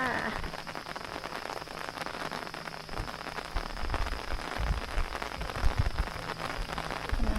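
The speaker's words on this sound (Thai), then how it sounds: "ฝนตกจ้า" Steady rain patters on a surface close by in Sarangkot, Pokhara, Nepal, a constant dense hiss with scattered heavier drops, no talking.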